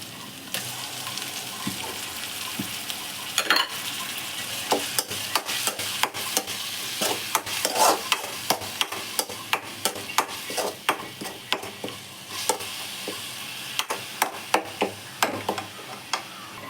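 Onion paste fries in a pan with a continuous soft sizzle, broken by frequent sharp scrapes and taps of a spoon stirring against the pan.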